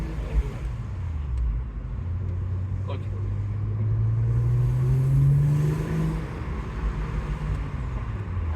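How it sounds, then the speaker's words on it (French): An already warm vehicle engine idles and then rises in a low steady drone, close and continuous, with a person speaking briefly over it. "Le moteur est un peu chaud déjà."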